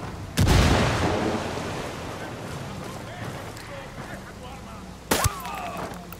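A frag grenade bursts in the shooter game Ghost Recon Wildlands, a loud boom with a rumbling tail, followed by a second sharp blast near the end, with game chatter in the background.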